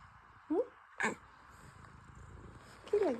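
A cat gives short, quiet meows, one early and one near the end, with a brief sharp thump between them in a calm room.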